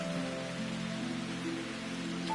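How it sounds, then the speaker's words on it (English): Rain in the video game Root Letter falls as a steady hiss under sustained tonal game music, continuous and moderately loud with no talking. "It's raining. It's starting to rain."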